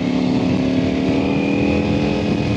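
Ducati Panigale V4R superbike engine running at a steady, even pitch while riding, a loud continuous drone with no speech over it.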